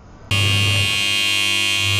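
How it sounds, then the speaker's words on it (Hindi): End-of-cycle buzzer on an LG 7 kg semi-automatic washing machine, sounding as a loud, steady electronic tone that starts abruptly and holds without a break. "ये बजर का साउंड आ रहा है, मतलब ये कपड़ा धुल चुका है"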